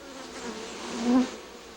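Honey bees buzz steadily in a hive at an apiary producing royal jelly, a loud, close, continuous drone that swells briefly near the end.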